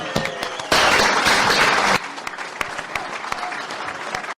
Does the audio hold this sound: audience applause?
yes